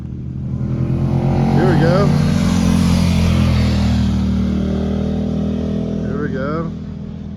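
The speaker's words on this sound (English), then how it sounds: "If you sit here, you'll see 100 motorcycles go by, hundreds." Several motorcycles ride past on a mountain road. Their engines swell loudly, rev and then fade away, while a nearby voice talks over them.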